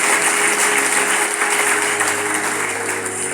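Continuous applause from a church congregation during a French-language prophetic service, a steady broad wash of clapping that stays loud and even throughout, with no speech over it.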